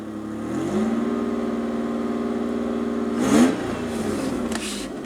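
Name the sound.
Toyota 4Runner truck engine revving after performance chip install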